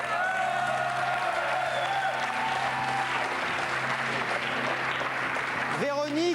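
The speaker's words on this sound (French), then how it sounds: "vous pouvez l'applaudir." A TV show audience applauds a contestant with sustained, fairly loud clapping over steady background music, ending with a brief swelling tone and a hint of voices.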